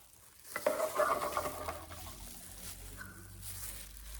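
Organic henna-style hair colour paste being mixed with a brush in a bowl, a brief burst of wet, sticky stirring and scraping up close, then fading to quiet faint movement.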